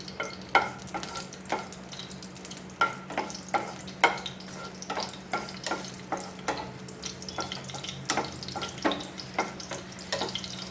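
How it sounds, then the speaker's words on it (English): Kashmiri dried red chilies roast in a pan for sambar, giving a faint background sizzle broken by a steady run of sharp spatula taps and scrapes, close up and without talk. "Then I'll add in the dried red chilies. Roast it for a few seconds."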